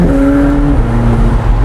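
A McLaren 765LT accelerates hard, its engine note loud and close with a steady rising drone and no voices.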